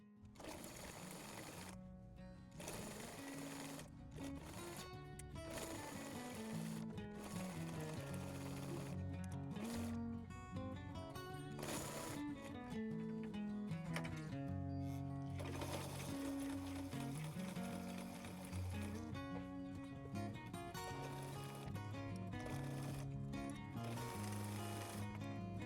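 A sewing machine stitches a simple shirt, running in steady bursts with brief pauses, its mechanical whir and rhythmic needle clatter close and continuous with no talking.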